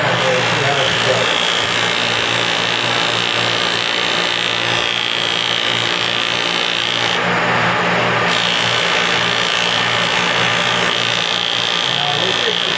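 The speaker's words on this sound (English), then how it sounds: "now I'm going to go with the Felder attachment and do some sanding." A Felder Schleiffix 60 mm sander attachment on a Felder Profil 45 Format4 shaper sanding wood, giving a loud continuous machine drone and a steady abrasive hiss, with talk over it.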